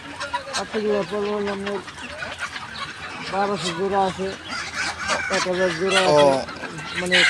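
Chickens cluck and squawk in a busy crowd at the Fatullah duck and chicken market in Narayanganj, close and loud, with people talking over the birds throughout.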